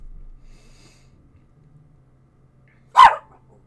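A dog lets out a single short, sharp bark near the microphone after a few seconds of near silence with only faint background hum.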